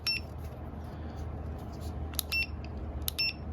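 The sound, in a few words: bark collar beeping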